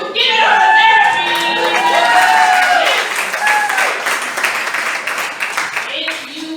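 Audience at a standup comedy show breaks into sustained applause and cheering, loud and dense at first and gradually thinning, with voices mixed into the crowd noise.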